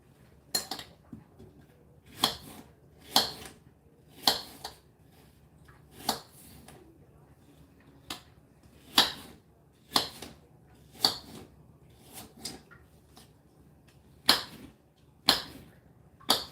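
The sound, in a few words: knife chopping apple into slices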